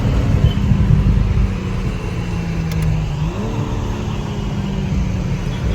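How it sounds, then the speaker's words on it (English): A car fitted with an M Performance exhaust rumbles and burbles loudly nearby, with a low steady drone and a rising rev partway through, at an outdoor supercar, bike and classic car show. "So this has the M Performance exhaust."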